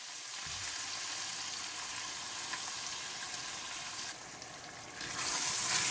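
Chicken frying in a pan with yogurt stirred in gives a steady, close sizzle throughout, swelling louder near the end with no talk.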